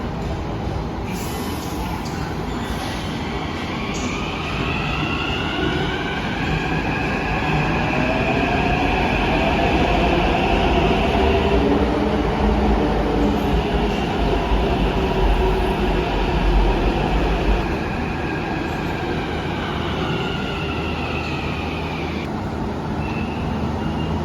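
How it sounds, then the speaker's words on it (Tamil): A Red Line metro train in Hyderabad pulls into the station with a loud, sustained rumble and rising metallic whine, wheels hissing and squealing as it draws near, then slows down. "ஸோ இது வந்து ரெட் லைன் மெட்ரோ. பார்ப்போம் மெட்ரோ வரட்டும்."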